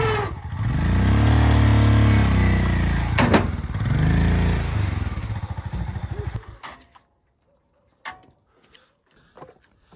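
A motorcycle engine revs loudly and close as the bike is ridden up a loading ramp, the rumble rising and falling before cutting off, leaving faint knocks and scattered sounds afterward.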